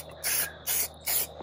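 Three sharp, loud bursts of a trigger spray bottle hiss in quick succession as detailing product is sprayed onto a 2007 Harley Davidson Nightrain motorcycle, close up with no talking.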